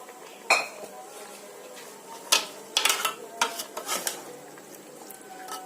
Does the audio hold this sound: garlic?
yes